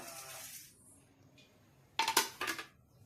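A metal lid goes onto a cooking pot for dal, a few close clinks and rattles in quick succession after a faint scrape, then quiet.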